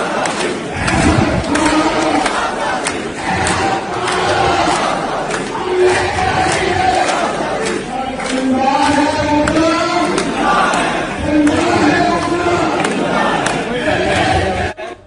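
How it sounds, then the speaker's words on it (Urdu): Crowd of lawyers at a convention with a politician chant rhythmic freedom slogans in unison, loud and sustained, with a lead voice calling lines and the mass responding in repeated swells. "یہ ذرا نعرے سنیے گا"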